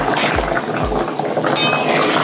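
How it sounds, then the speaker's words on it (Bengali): Fish curry with papaya bubbling away in a pot, a steady wet simmer with a few soft pops and liquid churning, close and fairly loud without any talk. "তাহলে ঝোলটা ফুটতে থাকুক"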